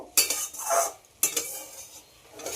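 A spoon stirs and scrapes through tomatoes and lentils frying in a pan. Two distinct clanking strokes sound close by, with a soft sizzle underneath.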